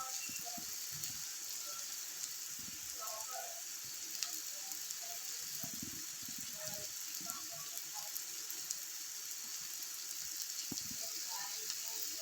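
Chopped ridge gourd sizzles steadily in a hot pan as it cooks in a milk curry base, a dense crackling hiss with scattered pops and faint occasional clicks throughout.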